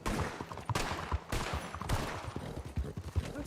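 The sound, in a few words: gunshot shooting a horse in the video game Red Dead Online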